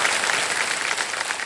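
Studio audience applause on the set of the Hindi quiz show Kaun Banega Crorepati, a steady, dense clapping crowd filling the whole moment without pause.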